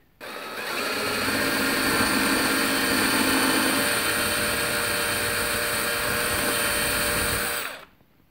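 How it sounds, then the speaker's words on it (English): An electric drill bores a hole in a bathroom wall to mount a robe and towel hook, a loud steady whine running continuously for about seven seconds before stopping abruptly. "I'm gonna drill a hole here."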